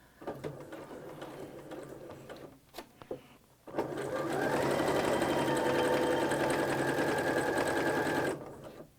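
A sewing machine back stitches a fabric placemat: a few short stitch bursts first, then a pause, then a long, even run of rapid, close-up whirring stitches that stops abruptly.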